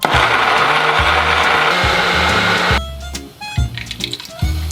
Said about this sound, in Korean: 깐 밤을 믹서기에 넣고 갈아줍니다